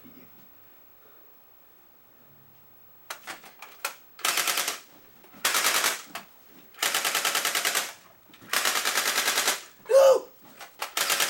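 Rapid bursts of automatic gunfire in a video game, several loud rattling volleys separated by short gaps, close and dominant, with a brief shouted exclamation near the end.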